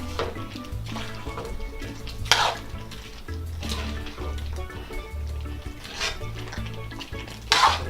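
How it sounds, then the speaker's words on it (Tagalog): Spoon scraping and clattering around a pot of chicken curry with apple and black mushroom, in repeated stirring strokes over a soft sizzle, close and without speech. "Tapos haluin lang po natin."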